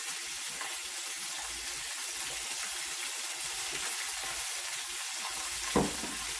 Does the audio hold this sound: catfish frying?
yes